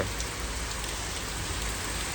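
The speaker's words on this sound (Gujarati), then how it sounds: "અત્યારે પણ કન્ટિન્યુ વરસાદ ચાલુ છે" Steady heavy rain pouring down, a dense continuous hiss with no other sounds.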